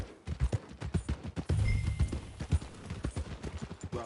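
Horse hooves clip-clop at a steady walking rhythm in the Red Dead Redemption II video game. The footfalls are loud and close, over a low ambient rumble, with no speech.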